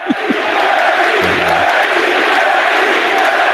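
Recorded crowd chanting plays as music on a talk show, a dense, loud roar of many voices with rhythmic shouted syllables, sustained throughout with brief bursts near the start.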